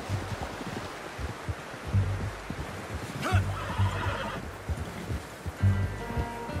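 A horse in the Red Dead Redemption 2 video game gives short snorts and whinnies at intervals. The calls sound over a soft outdoor ambience of wind and faint rustling.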